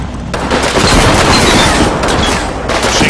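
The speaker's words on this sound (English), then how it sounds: "Machine gun as well." Continuous loud machine gun fire in the wartime strategy game Combat Mission Final Blitzkrieg, a dense rapid rattle of shots sustained for the whole stretch with a close, heavy crackle.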